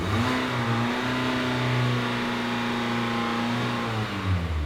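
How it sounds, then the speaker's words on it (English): Used Kia car engine revved during a charging-system test, a sustained mid-pitched rev held steadily for several seconds, close and fairly loud, before easing off at the end, with no talk. "So now we're gonna rev the engine like it says."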